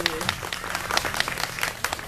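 Applause from a small live music venue audience after a singer's first performance of his own song, scattered uneven clapping with distinct individual claps, moderately close, with voices faintly mixed in.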